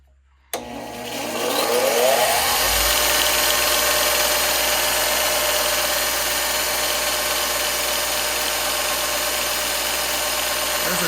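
A Bauer belt grinder/sander fitted with an 80 grit belt switches on with a sharp start, spins up within a second or two, then runs at a steady loud whine and hum with no talking.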